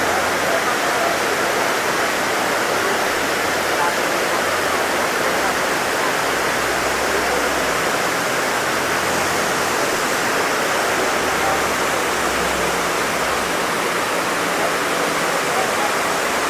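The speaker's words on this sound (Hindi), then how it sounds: "चलो, लोध देखना है ना, ये देखो लोध वाटरफॉल।" Lodh Waterfall in Jharkhand, fed by the Burha river, gives a constant, loud broadband rush of falling water that holds steady for the whole stretch with no pauses.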